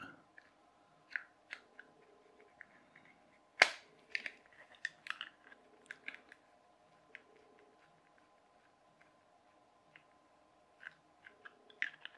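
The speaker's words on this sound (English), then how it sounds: "the screws dropped out then" Small screws drop out while being unscrewed from a hobby wall-climber build in a quiet room, giving one sharp clattering impact amid scattered light clicks and taps.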